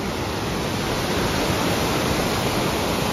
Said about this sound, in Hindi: कहाँ से पानी आ रहा है पता नहीं